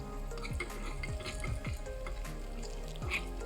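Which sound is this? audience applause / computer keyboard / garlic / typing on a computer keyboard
garlic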